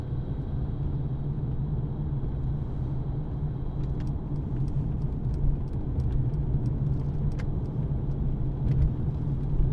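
Cabin sound of a 2014 Mercedes-Benz C220 CDI BlueTEC diesel driving around a roundabout: a steady low road and engine rumble with faint clicks and light rattles over it, no talk.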